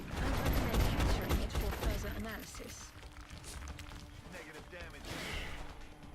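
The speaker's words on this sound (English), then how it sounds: "Couple of shots there, a couple of 1 hit point shots on that thin man, which did not result in a kill" Gunfire in the video game XCOM: Enemy Unknown rattles in dense bursts, loud at first and then easing into scattered crackles, with a voice talking over the action.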